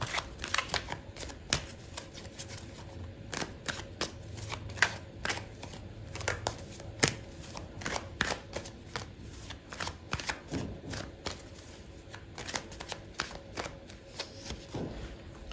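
Tarot cards being shuffled by hand during a love reading, a long run of quick crisp riffling bursts and soft slaps repeating irregularly, close and fairly quiet, with no talking.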